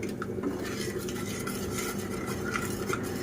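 Dry spice powders of turmeric, Kashmiri chilli, homemade masala, coriander and cumin are stirred in a pan for prawn curry, giving a soft steady fry with light scraping of a spoon against the metal.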